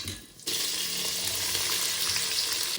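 Whole spices such as cinnamon, cloves, cardamom, stone flower and fennel frying in oil and ghee, a steady close sizzle that starts abruptly and holds with constant bubbling crackle.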